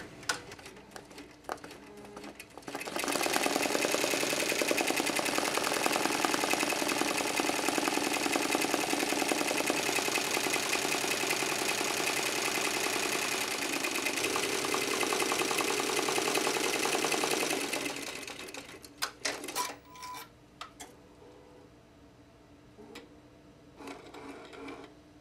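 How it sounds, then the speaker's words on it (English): An SWF embroidery machine stitches a design onto a cap, starting up after a few faint clicks into a steady, loud mechanical whir for about fifteen seconds before slowing and stopping, followed by scattered clicks and handling noise. "I'm going to hit start, and it's going to start to sew."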